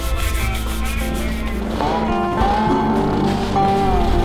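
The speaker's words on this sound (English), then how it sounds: "And now to sand it." A hand-carved stone piece is sanded with a continuous, close, gritty rubbing and scraping, steady throughout, with faint tonal background sounds underneath.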